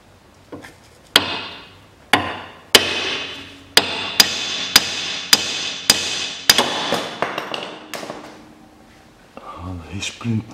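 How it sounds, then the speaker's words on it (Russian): Eleven sharp metallic hammer strikes on the front left ball joint of a 2007 Lexus IS 250, close and loud, landing at a steady pace and easing off toward the end, with a few quiet rustles afterward. "Возьму, наверное, молоток маленько стукну."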